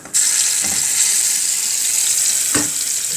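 Minced garlic hits hot ghee and melted fat, setting off a steady loud sizzle and crackle throughout, with a couple of brief stirring scrapes from a spoon near the start and end.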